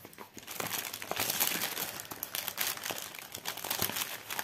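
A paper cross-stitch pattern is unfolded and pressed flat by hand, giving continuous close crinkling and crumpling of paper with brief louder crackles throughout, no talking.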